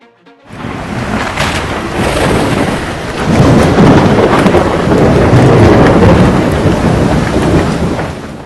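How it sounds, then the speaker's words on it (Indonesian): A violent thunderstorm in Spain with heavy rain, loud and close: a dense roar of downpour builds after a quiet start, with rolling thunder swelling midway and sustained rushing wind and rain to the end, no voices. "Badai mengerikan terjang Spanyol."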